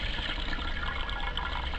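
Water pours into a container in a kitchen to make a brine, a continuous, close, full-bodied rush and splash that holds steady throughout the short stretch, with no voices.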